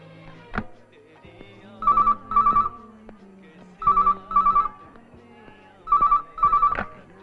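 Phone ringing: a trilling ringtone in three paired bursts at steady intervals, close and clear, with brief talk and background sounds between rings.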